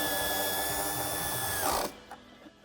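A power tool whirs steadily while fastening ground wires to a screw under lifted upholstery during a Tesla Model tow hitch and wiring kit installation, then stops abruptly with a few faint clicks after.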